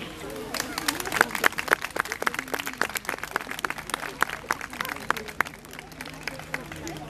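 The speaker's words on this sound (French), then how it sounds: "Je vous demande de l'applaudir." A crowd claps at a courteous jousting tournament in Gisors. The applause is steady and scattered, with sharp individual claps throughout the seven seconds and a faint murmur of voices underneath.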